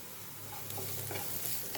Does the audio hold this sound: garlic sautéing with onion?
yes